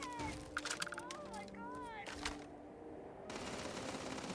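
Gunfire in Starfield on survival mode: several sharp shots and short bursts echo at close range over game sounds and a voice, with the firing trailing off partway through.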